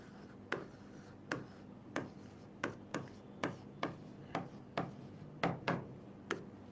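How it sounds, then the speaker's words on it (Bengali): Chalk strikes a board in a steady series of about a dozen crisp taps with short strokes between them, close and clear, with no speech. "আমি এখানে লিখি চতুর্ভুজের"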